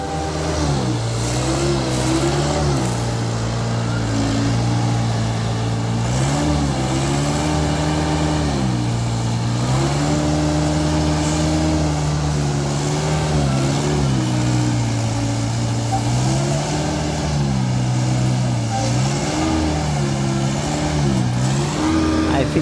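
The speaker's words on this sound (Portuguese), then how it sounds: "Caminhão Volvo, aí é bruto, pessoal." Volvo 480 truck engine hauling a heavy sugarcane load at the Santa Clotilde sugar mill during the 2023/2024 harvest, a loud steady diesel drone with slowly rising and falling pitch that runs continuously throughout.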